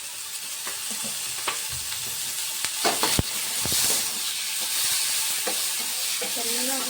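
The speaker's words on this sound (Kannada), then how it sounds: "ಟೊಮೆಟೊ ಇದನ್ನು ಚೆನ್ನಾಗಿ ಫ್ರೈ ಮಾಡ್ಕೊಂಡು ಇಷ್ಟು ಸ್ವಲ್ಪ ಆಯಿಲ್ ಹಾಕ್ಕೊಂಡು" Cut tomatoes fry in a little oil for chutney, a soft continuous sizzle broken by several sharp scraping stirs and clacks from a spoon against the pan, with no talking.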